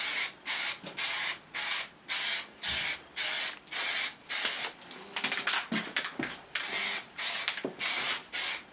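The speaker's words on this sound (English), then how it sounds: "Spray it on like a normal paint, about 10 inches away from the surface." An aerosol can of Plastidip rubber coating sprays onto test pieces in a garage, held about ten inches from the surface. A rhythmic run of short, loud, hissing bursts sounds close up, with brief pauses between them.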